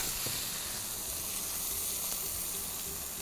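Seasoned lamb shoulder searing in a pot, a steady loud sizzle and frying hiss with no break and no talking.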